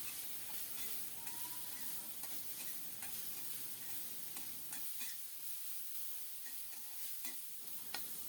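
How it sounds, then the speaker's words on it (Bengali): Snake gourd and potato pieces stir-frying in a pan with turmeric and salt, a constant faint hissing sizzle broken by regular soft scrapes and taps of the spatula, close but quiet, no voices. "চিচিঙ্গা দিয়ে ভালোভাবে নেড়ে চেড়ে কষিয়ে নিয়ে"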